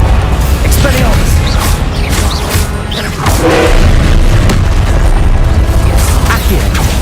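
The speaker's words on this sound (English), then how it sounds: "Expelliarmus!" A spell being cast in the Harry Potter video game Hogwarts Legacy: a loud, dense magical blast with booming impacts and crackling bursts. Continuous game noise runs around it, and a voice is heard speaking.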